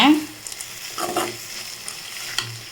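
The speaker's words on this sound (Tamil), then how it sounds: "கேரட்டை நல்லா இந்த மாதிரி கிளறிக்கோங்க" Carrots sauté in oil for South Indian carrot rice, a soft sizzle under repeated scraping and stirring strokes from a spoon in the pan, close and moderately loud with no talking.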